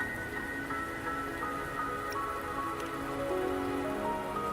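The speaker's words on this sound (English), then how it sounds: "Don't worry, the rain won't last much longer." Rain falls steadily in the video game Wuthering Waves, a dense, even patter of drops on surfaces with soft drips, alongside sustained musical tones and no speech.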